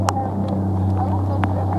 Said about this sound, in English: My engine's having a hard time.